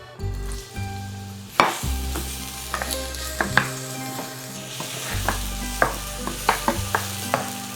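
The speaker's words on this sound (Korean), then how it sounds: "양파를 넣어서 양파가 투명해질 때까지 볶아주도록" Onions stir-frying in a hot pan with a spoonful of oil, a loud continuous sizzle broken by repeated scraping and stirring knocks of a utensil against the pan, close up and with no talk.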